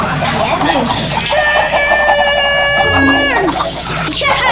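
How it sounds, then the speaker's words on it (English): Chickens in a Minecraft build-battle game cluck and squawk continuously over busy game music and sound effects, with excited voices talking throughout. "Chickens everywhere!"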